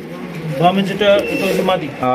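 Racer pigeons coo in low, rolling bursts close by while someone talks steadily over them.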